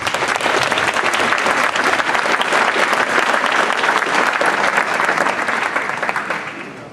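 A roomful of cardiologists, nurses and heart-care workers applauds at a speech, sustained dense clapping at close range that holds steady for several seconds and then begins to fade.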